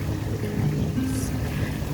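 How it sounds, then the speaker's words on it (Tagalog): Sea waves wash and splash against the shore at a seaside spot, a steady close rush of water with a low rumbling wash running through the whole stretch and no voices over it. "Naririnig naman po ninyo no, yung splash ng water, ng wave, ng alon."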